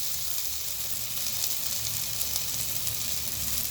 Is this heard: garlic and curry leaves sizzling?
yes